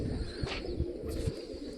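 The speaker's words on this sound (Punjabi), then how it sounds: "ਇੱਕ ਆਪਣਾ ਕੋਠੀ ਤੇ ਬਹਿ ਗਏ ਜੀ ਦੋ ਕਬੂਤਰ" Two pigeons perched on a house rooftop coo in low, soft, rhythmic pulses, about three or four in quick succession, over a faint steady background.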